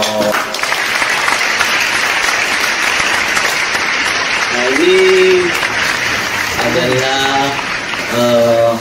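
Talk show audience applauding steadily in a studio, broad dense clapping that swells near the middle and end, with a host speaking briefly over it.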